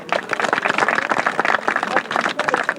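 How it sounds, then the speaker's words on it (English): Audience applause at a Jane Austen fair, a dense run of clapping from a room of listeners that rises and falls briefly over a few seconds, with voices mixed in. "Give a round of applause."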